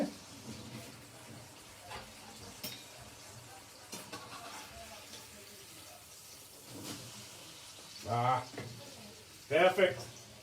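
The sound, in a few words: food frying and sizzling in a pan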